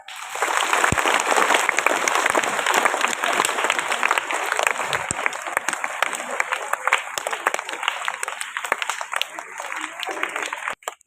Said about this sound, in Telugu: Give the claps.